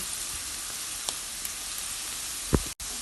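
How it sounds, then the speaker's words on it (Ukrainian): Chopped onion and grated carrot fry in a pan with a steady, close hiss of oil, broken only by a soft tick or two and a brief thump near the end. "Цибулю я зараз трішки обсмажу і добавлю моркву"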